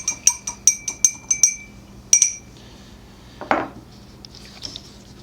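An Old Fashioned cocktail with bitters being stirred, a quick run of bright spoon-on-glass clinks, then a pause, a louder knock and a few faint taps.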